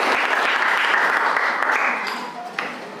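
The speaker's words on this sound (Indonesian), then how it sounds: "Beri tepuk tangan ya untuk kelompok 3." A classroom group claps for a student team after their discussion presentation, a dense, even patter of many hands that carries steadily and then thins toward the end.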